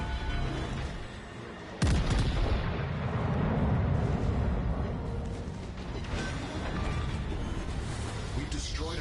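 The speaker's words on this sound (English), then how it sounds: "We've destroyed an enemy cruiser." Heavy naval gunfire as an enemy cruiser is destroyed in World of Warships Legends: a sudden loud boom lands about two seconds in, then a sustained rumbling roar of battle noise continues to the end.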